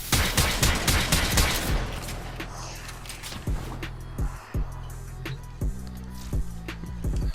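Sniper fire from a Snipetron Vandal rifle in the Warframe video game: a dense burst of rapid shots at first, then sharp single reports spaced out at irregular intervals.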